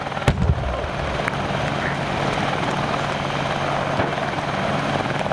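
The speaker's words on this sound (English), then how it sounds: "The British Army Apache attack helicopter." Steady British Army Apache attack helicopter rotor and engine drone holding throughout a display, moderately loud, with a sharp bang near the start.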